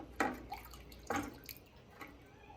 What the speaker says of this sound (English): The excess drips off.